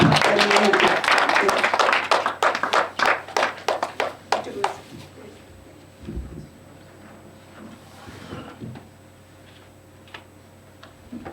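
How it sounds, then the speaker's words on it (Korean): A church congregation at a healing service claps in a fast, regular rhythm. The clapping is loud at first, thins out and stops after about five seconds, leaving a quiet room with faint stray sounds. "나오실 때 박수치로 환영해 주셨으면 감사하겠습니다"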